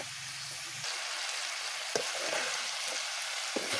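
Pork with salt and turmeric fries in a pan, a steady loud sizzle with a few faint stirring knocks under it.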